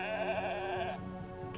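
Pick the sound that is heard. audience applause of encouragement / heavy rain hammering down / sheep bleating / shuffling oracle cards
sheep bleating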